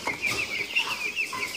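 Ross 308 broiler chickens in a poultry enclosure cluck and chirp in a steady stream of short, fairly close calls, with no talk.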